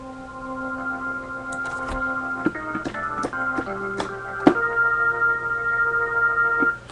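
B4II organ chords play with key leakage at maximum, sustained tones with several notes bleeding together as new keys sound, with sharp clicks at each key press.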